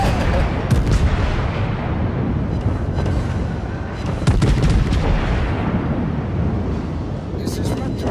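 Heavy naval guns in World of Warships boom continuously under a dense rumble of artillery and explosions, with scattered sharp cracks over the top and a person talking throughout.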